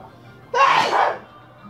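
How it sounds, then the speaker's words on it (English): A single sharp sneeze bursts out close to the mic while someone plays a Bomberman video game, a loud sudden blast that fades quickly into quiet room tone. "Sorry, I had to sneeze."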